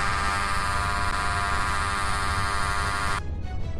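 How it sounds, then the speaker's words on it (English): A fire truck horn in the Roblox game Greenville sounds as one loud, continuous blaring tone held for about three seconds before it cuts off abruptly, close up and with no talk. "Here's the horn."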